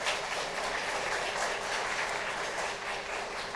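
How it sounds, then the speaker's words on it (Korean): Guests in a wedding banquet ballroom give loud, sustained, even applause to welcome the officiating pastor, with no voices over it. "목사님을 큰 박수로 환영해 주시기 바랍니다"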